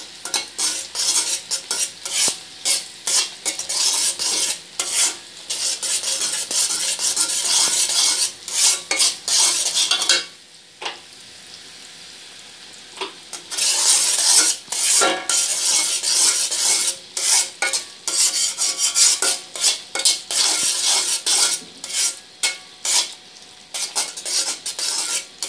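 A spoon scrapes and stirs honeycomb candy (kotkoti) mixture in a pan over the heat, with continuous rhythmic scraping and clinking and a faint sizzle, a brief pause in the middle and no talk.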